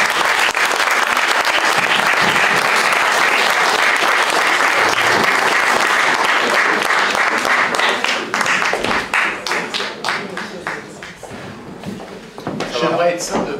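An audience claps and applauds loudly and steadily at a French event as a guest leaves the stage, the dense clapping thinning out and turning sparse toward the end.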